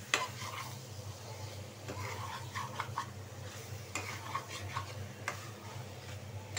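Pangas fish bhuna sizzles steadily in a pan while being sautéed, a soft continuous frying hiss broken by scraping stirs of a spatula against the pan, close and fairly quiet.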